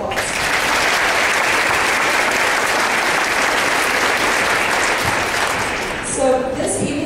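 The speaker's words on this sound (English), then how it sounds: "Let's give her a round of applause" Audience applause for a sixth-grade student at a school winter concert, a dense, steady sustained clapping from a full room that fades near the end as someone begins to speak.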